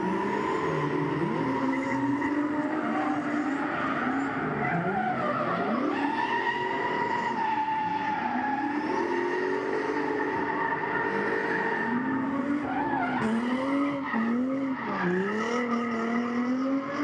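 Drift car with a big LS turbo engine skidding at a grassroots drifting competition at Agassiz Speedway, loud continuous engine roar with rising and falling revs and tire squeal, no voices.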